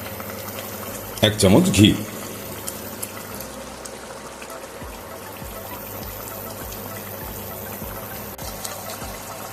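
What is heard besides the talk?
water boiling in a cooking pot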